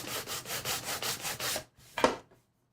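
Wood for a DIY cookbook stand is hand sanded with 220 grit sandpaper, giving about seven close, rhythmic rasping strokes, then a pause and one last brief scrape.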